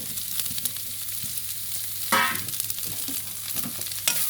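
Carrot, long-cut cabbage and capsicum are lightly sautéed in a pan, with a steady soft sizzle, a burst of louder scraping around the middle, and scattered spatula taps, without talking.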